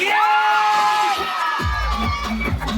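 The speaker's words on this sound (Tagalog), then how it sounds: "Palakpak for number 4." A studio audience at a Filipino television show claps and cheers for a contestant. Loud crowd noise and whoops build steadily and fill the whole stretch, with a few raised voices mixed in.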